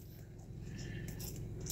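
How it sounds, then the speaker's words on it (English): Soft, wet crunching and munching from animals chewing close by, a steady low rumble underneath and no talking. "I hear them chewing."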